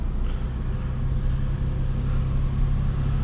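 A 2020 BMW M340i under full throttle, a low steady engine rumble heard from inside at moderate level, with no distinct turbo flutter standing out.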